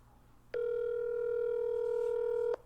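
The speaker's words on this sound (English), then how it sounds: "Oh, it's ringing." A telephone ring tone on an outgoing call to a mom, one steady sustained tone lasting about two seconds, clear and close, starting and stopping abruptly over quiet background.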